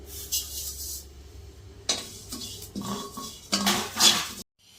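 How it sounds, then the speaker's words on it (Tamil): Spices and cumin dry-roasting in a metal pan, spoon or spatula scraping and clattering against it in irregular bursts, fairly close, with short quiet gaps between stirs and no talk. "எல்லாத்தையுமே கைவிடாமல் வறுத்துக்கணும்"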